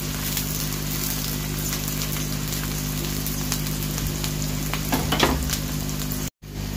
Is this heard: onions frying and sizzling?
yes